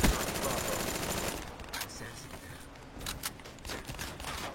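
Rapid automatic gunfire in a video game on the Nuketown map: a dense, sustained burst for the first second and a half, then scattered sharper shots at moderate loudness.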